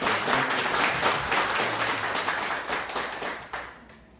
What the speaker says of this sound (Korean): 한번 박수 한번 해주시면.